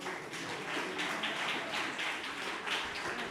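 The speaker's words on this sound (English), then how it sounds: "Big applause for Alan." An audience at a privacy-in-governance talk at the ETHRome event applauds steadily for a speaker coming on stage, with dense, continuous clapping throughout.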